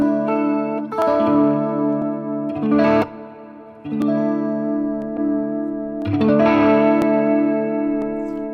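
An overdriven electric guitar through a Line 6 Catalyst amp rings out sustained chords with a shimmering chorus effect, struck three times with pauses between, loud and close.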